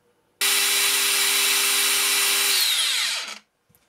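A Makita 40-volt angle grinder bursts on and spins at full speed with a loud, steady high-pitched whine for about three seconds, then winds down with a falling tone into silence.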